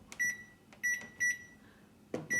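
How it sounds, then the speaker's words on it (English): Oven timer beeping as it is set for cookies: several short, bright electronic beeps spaced irregularly, each with a faint button click, close and fairly clear with no talk. "my timer for 12"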